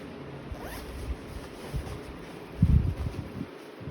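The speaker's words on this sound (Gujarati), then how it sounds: "ને એની અંદર પણ એક ચેન છે" A zipper on an inner compartment of a homemade folding suitcase is pulled in short, close scratchy runs, ending in a louder rasping zip over faint room noise.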